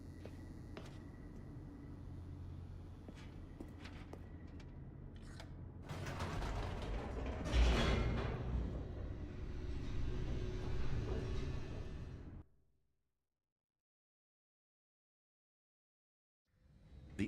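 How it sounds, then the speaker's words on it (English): Creaking, grinding elevator machinery in The Stanley Parable, a steady mechanical rumble that swells into loud clanking and rattling, then cuts to silence before a faint return at the end. "The elevator raced downward, plummeting towards an unknown fate."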